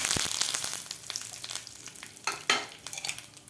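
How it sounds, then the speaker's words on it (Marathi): Curry leaves crackle and sizzle in hot oil with cumin and mustard seeds, a loud, busy spatter up close with sharp pops and stirring scrapes, and no voices. "यामध्ये घालायचे आपल्याला दहा ते बारा कडीपत्त्याचे पानं"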